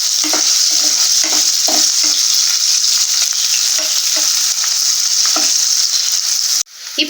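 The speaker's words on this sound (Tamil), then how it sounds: "இப்போ வெங்காயம் வந்து நல்லா வதங்கட்டும்." Onions sautéing and being stirred in a pan for a Tamil paruppu urundai kuzhambu, a steady loud sizzle with repeated scraping stirs throughout, cut off abruptly near the end.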